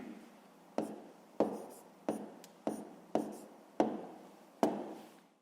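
Fractions written by hand for a fifth-grade math exercise: seven sharp pen or chalk taps spaced roughly evenly, each with a short scratchy tail, fairly close and clear with no talking.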